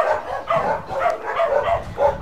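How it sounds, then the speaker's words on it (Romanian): Dogs bark at a home during a weekend, a run of loud, close barks in an irregular rhythm, some yipping, with nothing else prominent. "Ăștia nu-i știu pe mici și pe căței mici și cred că sunt câini străini. Intruși. Și de-aia îi latră."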